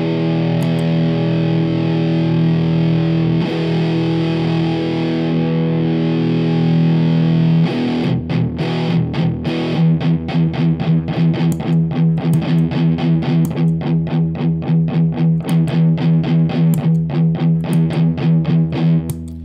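An electric guitar through a Furman Buffer and Boost pedal, gritty, plays sustained chords at first, then switches to fast, tightly muted rhythmic strumming that continues steadily and loudly to the end.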